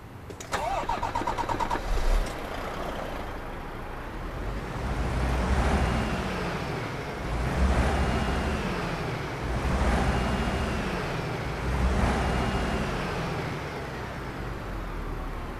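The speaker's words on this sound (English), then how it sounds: "I'm just going to turn the engine on, and then I'm going to rev the engine a bit." A DAF truck engine in Euro Truck Simulator 2 cranks and starts with a brief starter whine, then settles into a deep idle with several slow rising-and-falling revs at regular intervals, loud and alone.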